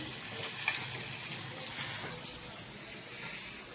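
Prawns frying in a pan, a soft steady sizzle at moderate distance with faint scraping as they are flipped, continuous and fairly quiet.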